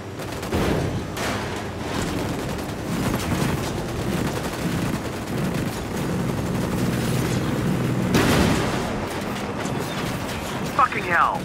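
Gunfire in the Ghost Recon Wildlands video game: dense bursts of shots and booms, steady and loud for the whole stretch, with a heavier blast near the end and voices talking over the fighting.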